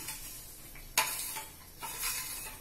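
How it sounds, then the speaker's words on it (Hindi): Pineapple halwa with roasted semolina being stirred in a pan as it cooks, giving soft scraping strokes over a faint sizzle, with a sharper scrape near the start and quiet throughout. "मैं इसे चला लेती हूँ।"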